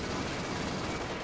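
Battle in Company of Heroes 2 with a British 6-pounder anti-tank gun in action: dense, unbroken roaring gunfire that fills the whole moment, loud and continuous with no separate shots standing out.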